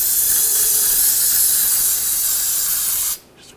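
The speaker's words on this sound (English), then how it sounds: "Now we'll just clean this up with a little brake parts cleaner." Brake parts cleaner sprayed onto a 2009-2010 BMW 535i xDrive's front suspension after a CV axle job: one loud, steady aerosol hiss up close lasting about three seconds, then cutting off sharply, with no voices.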